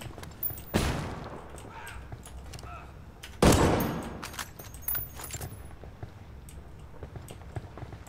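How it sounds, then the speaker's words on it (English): A flashbang grenade goes off in Ghost Recon Wildlands, with two sharp, loud bursts a few seconds apart, each fading into a brief rattling tail, over quieter game ambience. "Lobbing a flashbang"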